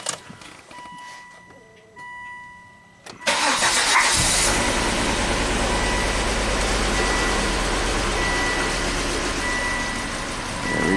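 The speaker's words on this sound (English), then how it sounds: "Just start up, let it idle," A Volvo car engine cranks and catches, then settles into a steady, loud idle that runs on without a break, with faint electronic tones from test equipment before it starts.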